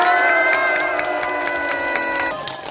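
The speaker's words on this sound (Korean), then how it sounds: "박수 보내주시기 바랍니다." An audience at a memorial ceremony responds with a brief burst of cheering and shouting, a dense crowd sound with a steady sustained tone underneath that tapers off at the end.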